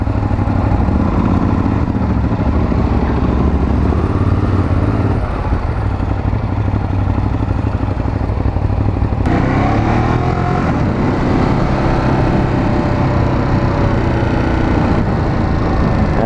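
A Ducati 821 motorcycle engine roars steadily while riding in sport mode with traction control at 3, loud and close, with wind rush and shifts in engine pitch partway through.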